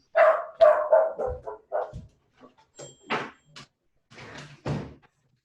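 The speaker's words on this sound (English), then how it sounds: "my dog is barking" A dog barks indoors in a quick run of sharp barks, then a few softer, scattered barks and knocks follow at a distance, with no talking.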